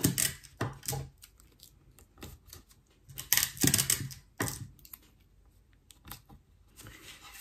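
Big Shot die-cutting machine running paper and tape through its rollers, a series of sharp clicks, clacks and rolling scrapes in irregular bursts, close and fairly loud, with no talking.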